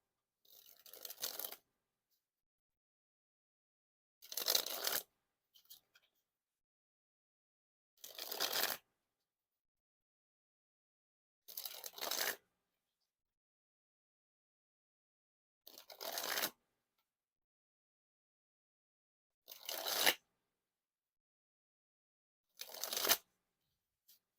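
A deck of Bicycle Radical 80's playing cards is dribbled from hand to hand seven times. Each pass is a brief, crisp, fluttering rush of cards, heard alone and close, with silence between passes.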